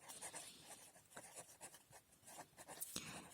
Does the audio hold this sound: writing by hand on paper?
yes